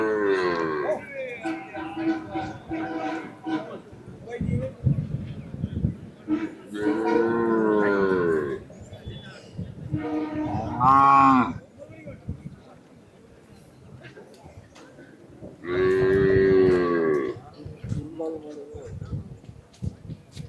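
Native cattle at a Palayakottai cattle market moo repeatedly, the long, loud, drawn-out calls rising between stretches of people talking amid market bustle.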